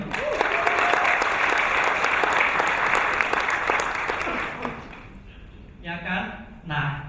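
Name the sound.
audience applause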